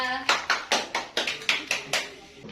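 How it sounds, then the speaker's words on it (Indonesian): Students in a classroom clap for a group after its presentation, a short burst of about nine fairly regular, moderately loud claps close by. "Beri tepuk tangan untuk kelompok 2"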